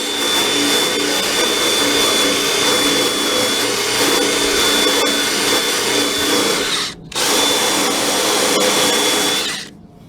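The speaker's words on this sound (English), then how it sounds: "Got a little cup brush in my drill motor." A spinning wire cup brush in a drill cleans flux off a fuel tank repair, whining steadily and loudly, with a brief pause before spinning up again, then stopping.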